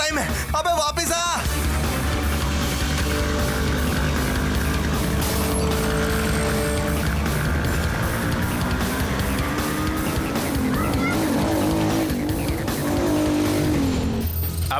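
A stolen car speeds away with squealing tires in a loud, continuous roar of engine and skidding rubber, mixed with shouting voices and dramatic movie sound.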